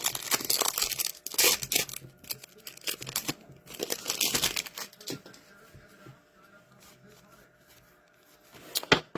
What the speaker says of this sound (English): let's rip some packs